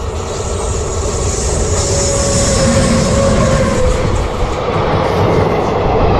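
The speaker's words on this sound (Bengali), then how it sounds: "আর ওই দেখো ট্রেন যাচ্ছে, দেখো, যেটা এক্ষুনি তোমাদের বলছিলাম যে ব্রিজের উপর দিয়ে ট্রেন যায়।" A train rolls steadily over a railway bridge beside a dry river, a loud continuous rumble and rattle of wagons filling the whole stretch without a break.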